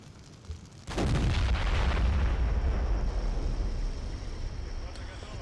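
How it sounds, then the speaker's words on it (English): A heavy artillery barrage erupts in the Chechnya Mod battle for Grozny, a loud rumbling explosion swelling after a brief quiet and rolling on with sustained low booms, while a voice talks over it. "call in some more artillery"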